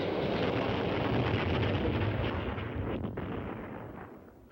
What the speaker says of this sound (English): In this test, a cruise missile carried a conventional warhead 240 miles to its target.